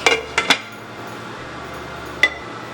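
A metal lid goes onto a pot of simmering meat sauce for lasagna, a few sharp clanks close together at the start and one more clink a moment later, over a quiet low hum.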